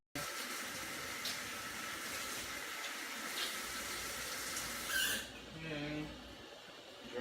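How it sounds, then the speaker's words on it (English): Hands being washed under a running tap in a kitchen, a steady, soft hiss of flowing water for about five seconds before it stops, with faint talk around it. "Wash my hands again."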